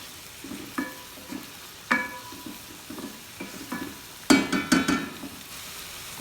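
Onions fry in a pan under a low, continuous sizzle, with repeated scraping and clinking of a spoon stirring against the pan and a brief cluster of louder knocks partway through.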